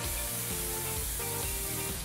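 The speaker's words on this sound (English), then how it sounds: "if you spray it with hairspray as it's aging, you are more likely to" Hairspray misted from an aerosol can over dried leucadendron flowers, a steady continuous hiss that fills the whole stretch at an even, close level.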